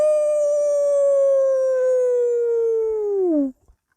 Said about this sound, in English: An eerie howl stopped them in their tracks.